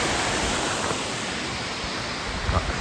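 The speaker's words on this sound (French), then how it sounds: "là, c'est les cascades." The waterfall cascades at Baume-les-Messieurs give a steady, even rushing roar of falling water, continuous and fairly loud with no speech over it.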